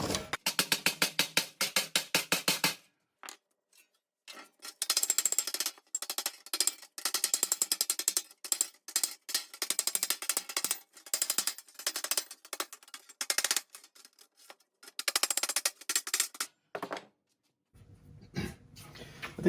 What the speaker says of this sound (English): I'll go along this with the hammer and dolly now